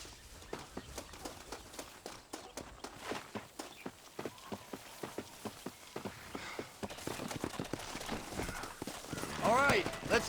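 Horse hooves clip-clopping at a steady gait in the Red Dead Redemption video game, a regular rhythmic beat running throughout under speech and game sounds.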